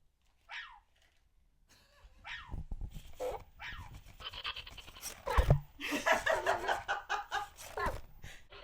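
A dog nearby gives several short barks mixed with panting and small whimpers, in a quiet room.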